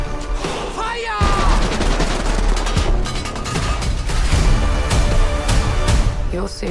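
Gunfire from the action film Sisu: dense rapid bursts and booming shots over a loud battle mix with shouting voices, continuous and close throughout.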